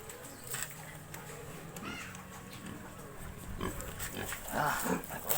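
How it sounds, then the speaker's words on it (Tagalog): Pet pigs on a small farm in hot summer weather, grunting and snuffling at close range at feeding and bathing time, with sporadic faint voices and louder bursts near the end. "Magpapaligo at magpapakain tayo ng mga alaga nating baboy."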